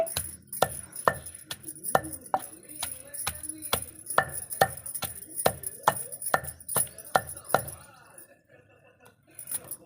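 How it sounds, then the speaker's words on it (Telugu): Onions are pounded in a bowl for green chili chutney, a steady run of sharp, close thuds with a hard, ringing edge, about two per second, stopping near the end. "ఇప్పుడు ఉల్లిపాయలు వేసి దంచేయాలండి ఇలా బౌల్లో పెట్టి దంచాలండి ఉల్లిపాయని"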